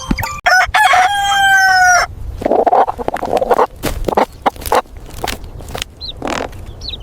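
A rooster crows loudly up close, a long drawn-out cry, followed by a run of irregular clucks and scratchy movement sounds.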